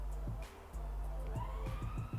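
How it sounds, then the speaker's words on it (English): A siren wails somewhere out in a city neighbourhood, faint and distant, rising in pitch over a low steady background hum. "Don't mind that siren."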